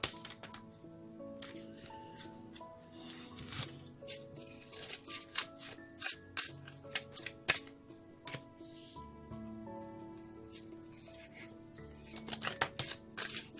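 A deck of tarot cards being shuffled: repeated soft papery riffles and flicks in uneven bursts, close and moderately quiet, over steady background music.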